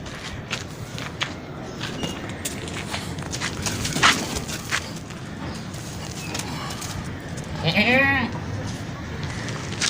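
Goats and a kid bleat at a busy livestock market, two clear bleats rising above a constant crowd din, shuffling footsteps and background chatter.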